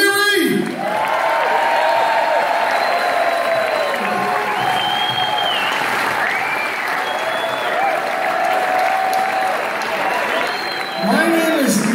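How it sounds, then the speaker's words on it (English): A concert audience at a tribute show breaks into loud, sustained applause, a dense wash of clapping with scattered cheers and whoops that swells and holds throughout. "So we want to give a big, big round of applause."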